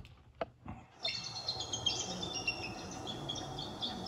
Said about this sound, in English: That's what a bald eagle sounds like.